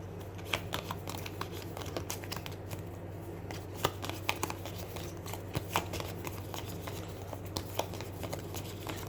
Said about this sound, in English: If you see me shuffling that way